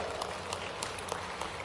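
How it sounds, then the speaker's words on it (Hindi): A crowd at a political rally for Madhya Pradesh's chief minister in Rajgarh claps loudly and continuously, a thick, sustained wash of applause. "यशस्वी प्रधानमंत्री का जोरदार ताली बजा के अभिनंदन करो।"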